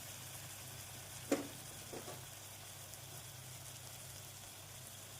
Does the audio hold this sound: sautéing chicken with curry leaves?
yes